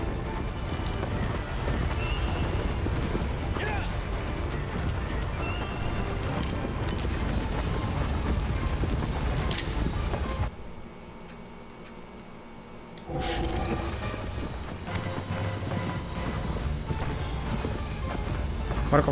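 Galloping horse hooves from Shadow of the Colossus keep up a steady clip-clop under dense game music and ambience, dropping out briefly near the middle before resuming.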